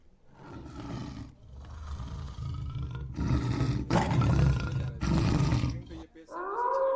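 Tigers in the Madhya Pradesh forests let out a series of loud, rasping roars in several long bursts with short gaps, close and powerful, ending in a brief rising groan.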